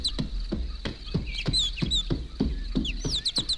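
Birds chirp and whistle in a forest as short, high, bright calls scattered over a rhythmic series of hoof-like thuds from a cantering horse, produced as a sound effect.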